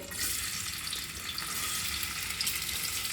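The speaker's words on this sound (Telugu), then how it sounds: "కరివేపాకు పోపు దినుసులండి అన్నీ ఒకేసారి వేసేస్తున్నాం" Onions, curry leaves and tempering spices fry in hot oil for a drumstick masala curry, giving a steady, dense, close sizzling hiss that runs unbroken with no talk.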